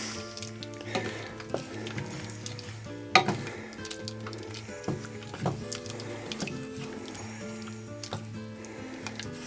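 A spoon stirs gravy mix through a bubbling pie filling in a pan, soft wet sizzling and squelching with irregular knocks and one sharp clank partway through, no voices.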